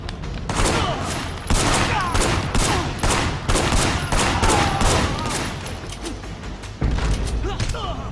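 Rapid gunfire fills a Payback video game fight, dense bursts of loud shots repeating almost continuously with short gaps, close and punchy, with some faint talk underneath.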